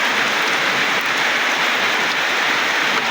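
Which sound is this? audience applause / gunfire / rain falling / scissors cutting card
rain falling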